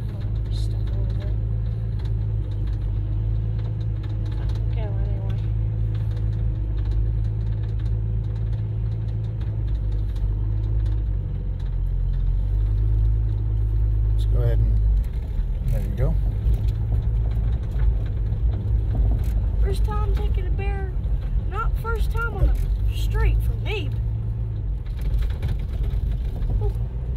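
A 1965 Plymouth Barracuda's engine runs steadily at idle with a deep low rumble, rising as throttle is added partway through, while people talk nearby.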